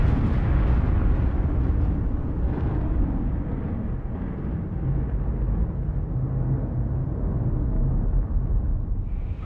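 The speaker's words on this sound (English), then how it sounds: "there was a massive explosion" A massive industrial chemical explosion, equivalent to about 1,400 pounds of TNT, with a deep, rumbling roar that rolls on and slowly fades, loud and low throughout.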